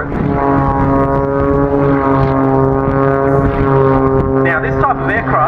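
Propeller aerobatic plane of the type flown by the French Air Force aerobatic team, performing at the Barossa Air Show in South Australia: a loud, sustained droning engine with shifting pitch, with a voice talking over it.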